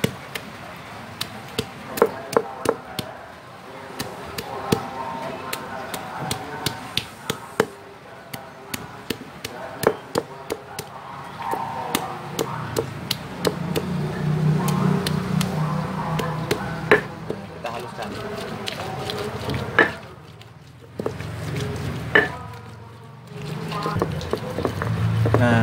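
Shallots are pulped in a grinder for an oyster-sauce chicken liver and gizzard dish, with sharp irregular knocks and clatters giving way to a droning grinding whir that stops and restarts near the end, no talk.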